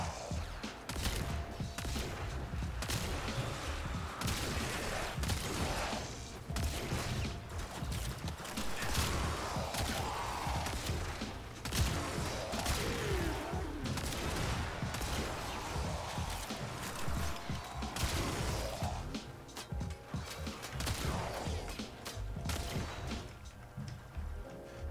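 A kitgun in Warframe fires in rapid, repeated bursts, dense and crackling over a sustained background of game noise and effects, with the shots running almost continuously through the stretch.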